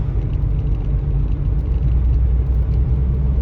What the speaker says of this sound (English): The engine provides some little rumble